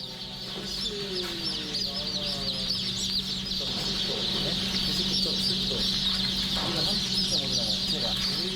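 Many newly hatched chicks cheep constantly in a dense, high-pitched chorus over a steady mechanical hum at a hatchery sexing line.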